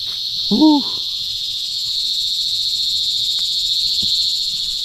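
Insects droning in a steady, high, continuous chirr at close range, joined briefly near the start by a short rising-falling animal call and a couple of faint knocks.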